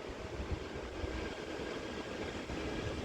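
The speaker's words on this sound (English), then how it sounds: "we also have a Manchester Metrolink tram heading into the platform" Manchester Metrolink tram arriving at a platform near Manchester Airport on the Styal line, a steady broadband rumble and rail noise at constant loudness, with no voices.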